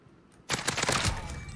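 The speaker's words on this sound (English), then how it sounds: "How have I lost that gunfire anyway?" Gunfire in the Warzone video game, a sudden loud burst of rapid shots that starts after a quiet moment and continues as dense, crackling automatic fire.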